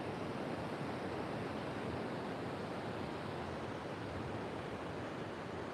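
Ocean surf rolling onto the shore where surfers ride, a constant broad wash of breaking waves heard alone at moderate distance with no voices.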